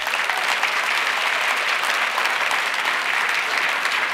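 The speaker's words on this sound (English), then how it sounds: "Let's give one last round of applause to all of this year's finalists." Audience applause at the Alberta Business Awards ceremony in a theater, steady dense clapping from a large crowd sustained throughout, loud and continuous with no talk.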